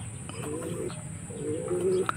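Racing pigeon named Batman cooing close by in two soft low bursts, with faint chirps from other birds behind.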